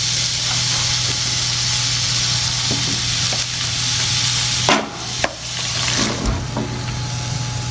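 Chopped bottle gourd tipped into a pan of prawns frying with turmeric, a constant loud sizzle and hiss with a few scrapes and clatters of stirring partway through.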